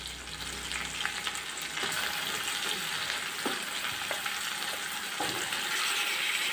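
One kilogram of chicken frying and sizzling in biryani masala in a pot, a continuous loud hiss with scraping stir strokes, close and alone.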